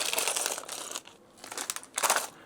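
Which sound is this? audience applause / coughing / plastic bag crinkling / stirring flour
plastic bag crinkling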